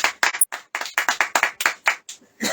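A church congregation claps hands in a quick, uneven burst of sharp claps, close and loud, with no talking over it.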